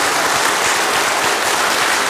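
Dense, steady applause from a concert audience thanking a guzheng orchestra after its performance, a continuous wash of many hands clapping with no pauses.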